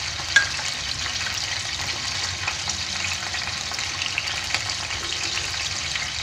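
Dried, salted tilapia frying in a pan of hot oil, a continuous crackling sizzle with scattered sharp pops, steady and close, with no voices.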